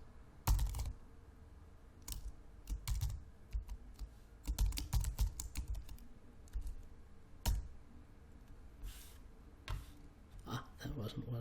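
Computer keyboard keys clatter in quick irregular bursts as an edit command is typed into the console of the game Red Eclipse, close and crisp, with a voice talking between the keystrokes.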